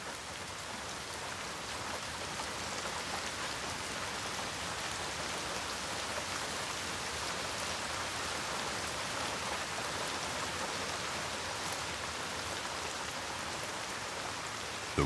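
Steady rain pattering on the leaves of beech trees, a dense even hiss of drops held at a constant low level throughout, with no voices.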